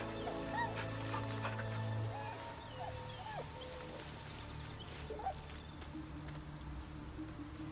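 A dog in the video game Baldur's Gate 3 whimpers with soft, faint whines and yips. They sit low under continuous game music and ambience.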